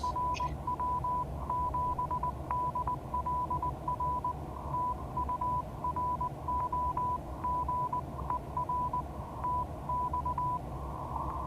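Faint Morse code tone keying a steady string of short and long beeps over a loud, constant hiss of static, like a radio receiver, with no voices.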